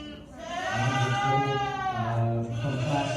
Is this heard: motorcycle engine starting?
no